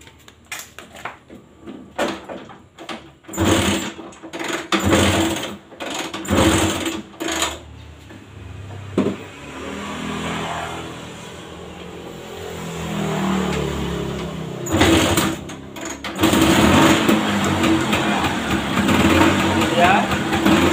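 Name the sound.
Vespa scooter engine running, compression leak squeak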